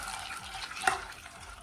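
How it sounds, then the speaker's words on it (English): Chocolate chips stirred into hot butter in a saucepan: soft wet swishing and scraping with a small clink of the spoon partway through, close and fairly quiet. "I'm gonna mix them until they're just about melted"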